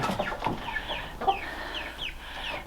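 Chickens cluck and murmur steadily inside a chicken coop on a frozen winter farm, several birds overlapping at close range with a few sharper squawks rising above the chatter.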